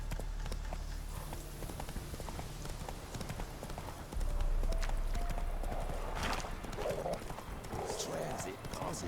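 Horse galloping in The Witcher 3: Wild Hunt, quick close hoofbeats drumming steadily throughout, with a whinny and game sound effects layered over them.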